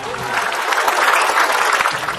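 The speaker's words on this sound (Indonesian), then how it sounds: "Tepuk tangan dulu buat ibu-ibu yang memotongkan kuku suaminya." Audience applause at an Islamic religious lecture, a steady dense wash of many hands clapping at close range, loud and continuous throughout.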